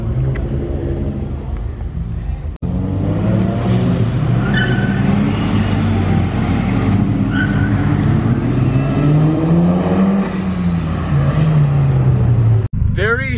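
Cars at a small car meet: engines hum and rev with rising and falling pitch, a continuous motor drone that lasts most of the stretch, while people talk over it.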